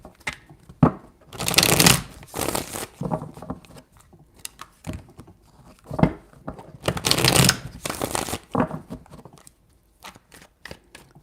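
Tarot cards being shuffled in several bursts, crisp riffling and flapping rustles that come in separate rounds with short pauses between, close and fairly loud with no talking.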